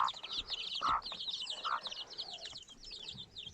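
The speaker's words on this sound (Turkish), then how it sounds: "Şöyle tavuk dışarı atlıyor." Hens cluck and chatter softly nearby, with a few louder squawks and rustling in a quiet, snowy outdoor farmyard.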